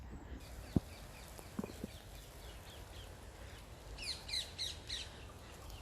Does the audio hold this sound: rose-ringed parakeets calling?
yes